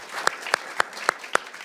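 Audience applause at a World Economic Forum panel in Davos comes as a few sharp, evenly spaced claps over a soft room hiss.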